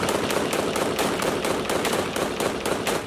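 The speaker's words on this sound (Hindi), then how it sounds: "ऑटोमेटिक राइफलों से लैस ये लड़ाके सीरियाई सैनिकों पर ताबड़तोड़ गोलियां बरसाते नजर आए।" Automatic rifle gunfire from a Syrian combat scene, with rapid sustained bursts of shots in a steady rhythm. The fire is loud and close and continues without pause.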